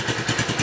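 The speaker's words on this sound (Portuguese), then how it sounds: "Vamos funcionar a motocicleta." Honda CG 150 ES motorcycle engine, a 2004 to 2008 model, running with a close, steady pulsing single-cylinder beat over a brief moment.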